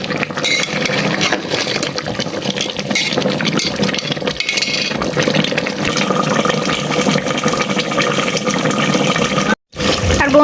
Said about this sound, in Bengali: সিদ্ধ হওয়ার জন্য আমি পানি দিয়ে দিচ্ছি